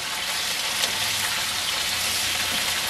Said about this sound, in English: You get a nice stir fry into the beans.